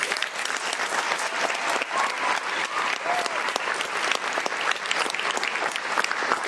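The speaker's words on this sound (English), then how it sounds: "let's take a moment to give all of our coordinators in the room a round of applause" A room full of people at a national conference applauds steadily, dense clapping throughout, loud and continuous with a few faint voices mixed in.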